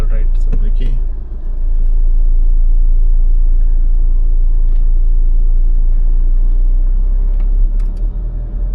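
A 2025 Jeep Meridian 4x4 crawls in 4 low over rugged terrain, giving a loud, steady low rumble of engine and cabin noise with occasional bumps and creaks, and some talk inside.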